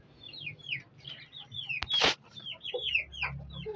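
Pigeon chicks grown nearly to full size give a steady run of short chirps and cheeps at close range, broken by one sudden burst of wings flapping.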